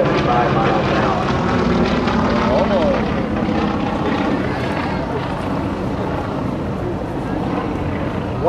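A Nanchang CJ-6 propeller trainer drones steadily overhead at about 175 miles an hour at an airshow, a loud continuous engine roar with a voice talking over it.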